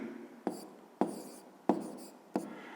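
Pen strokes writing a math expression in an exercise book, a few short scratchy bursts with brief pauses between them, close and fairly quiet, with no talking.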